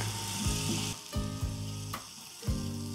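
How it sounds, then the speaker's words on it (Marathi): Finely chopped Shravani ghevda beans sizzle loudly in hot frying masala as they are stirred in, with a few scraping spoon strokes cutting through the steady close frying. "आता हे बीन्स छान असं या मसाल्यामध्ये घालायचं आहे."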